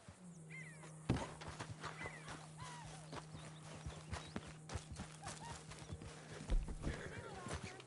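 Horse hooves clip-clop in a steady walking rhythm in the video game Red Dead Redemption 2, with a horse whinny and talk over a low droning background.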